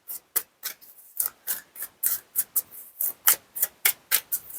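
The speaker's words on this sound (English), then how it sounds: "I'm going to use my 1JJ Swiss deck here just to pull 3 or 4 more cards" Cards from a 1JJ Swiss tarot deck slide and rub out of the pack in a quick, close series of about a dozen dry, papery swishes separated by brief pauses.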